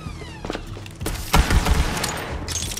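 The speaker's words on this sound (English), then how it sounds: "only fire like 4 shots, but it reloads fast as fuck" Pistol gunfire in the Borderlands 3 video game, a handful of punchy shots with thuds spread over a few seconds, loud and close amid busy game sounds.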